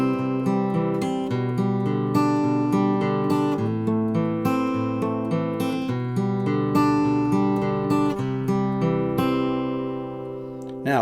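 Acoustic guitar fingerpicked steadily through a chord sequence in an alternating-bass pattern, even rhythmic plucked notes ringing close and clear with no talking.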